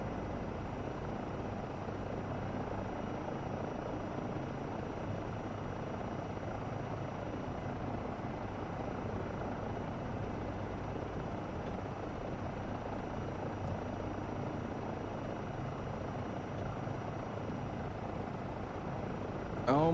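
A helicopter hover-taxiing in Microsoft Flight Simulator at Palo Alto airport: a close, loud, steady rotor and turbine drone that runs without a break for the whole stretch.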